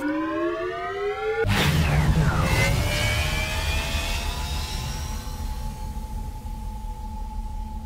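A mech's engine powers up in the video game Overheat: Mech Warzone: a rising whine cuts in with a sudden loud surge, then settles into a steady synthetic hum with a sustained tone that carries to the end.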